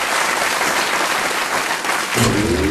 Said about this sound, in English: Big round of applause for Longfella.